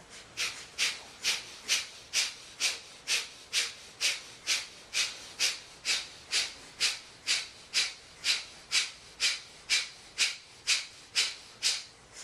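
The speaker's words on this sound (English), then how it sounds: "And breath of fire." Rapid, rhythmic breath-of-fire yoga breathing during a kundalini session: steady, evenly spaced forceful exhalations, about two per second, close and clear with no talking.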